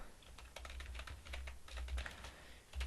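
Code being typed on a computer keyboard, a quick irregular run of soft close clicks and taps with a low hum underneath, no talking.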